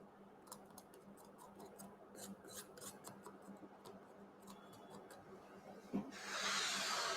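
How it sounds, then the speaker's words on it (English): A knife scraping icing from gingerbread house pieces: a run of soft, quick ticks and scrapes close up, quiet and steady, followed by a louder hiss at the end. "You can use the knife to scrape it out."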